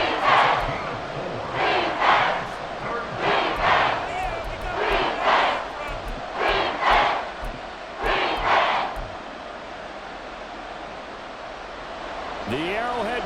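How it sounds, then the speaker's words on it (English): A football stadium crowd at Arrowhead roars in swelling waves, a loud, dense mass of voices rising and falling in a steady rhythm, with a broadcast announcer speaking over it. "The Arrowhead crowd in full roar"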